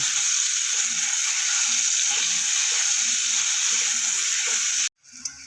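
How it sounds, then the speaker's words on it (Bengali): Potatoes fry in oil with a loud, steady sizzle close by and faint rhythmic clicking beneath. The sound cuts off abruptly near the end. "দিয়ে আলুটা আমি একটু লাল করে ভেজে দেবো"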